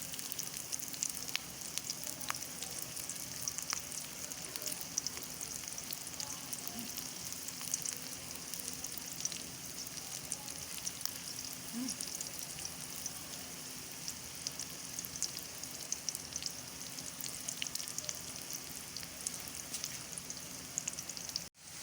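Onions fry in a pot until light brown for a chicken and mash daal dish, a soft, continuous sizzle with faint crackles that stays even and quiet throughout.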